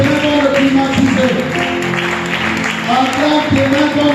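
A church congregation at a Sunday service claps and cheers in a loud, continuous wash of applause mixed with voices, close and filling the room throughout.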